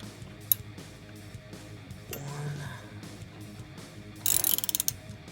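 Wrench loosening the rear axle nuts on a Harley Sportster, a brief burst of quick ratcheting clicks near the end, close, among faint shop sounds.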